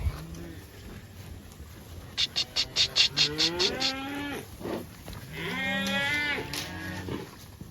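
Cattle in a grazing herd on a pond dam moo several times, with long, drawn-out calls rising and falling at moderate distance over a faint outdoor background, and a rapid series of shorter calls in between.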